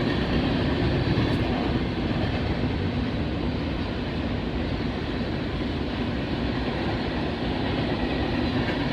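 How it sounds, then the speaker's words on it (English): An empty frac sand freight train rolls past in Oak Harbor, Ohio, a loud continuous rumble and roar of cars on the rails holding steady throughout. "That's why this empty frac sand train's hauling Bud."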